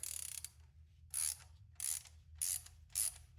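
Ratcheting bolt work under the hood of a 2002 Ford Ranger: four or five short bursts of rapid ratchet clicking, each about a third of a second, with pauses between, close and fairly quiet over a low hum.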